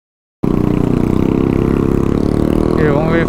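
A Honda CB Twister 300F motorcycle engine idles steadily close by, a loud, even low throb that holds throughout after an abrupt start, with a faint higher whine near the end.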